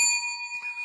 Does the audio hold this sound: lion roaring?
no